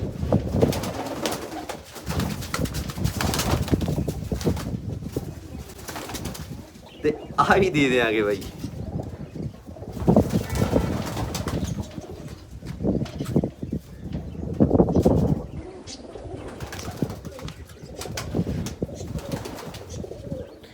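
Bearded pigeons kept in a loft coo close by in rolling, overlapping calls, with a brief burst of wing flapping partway through, while someone talks intermittently over the birds.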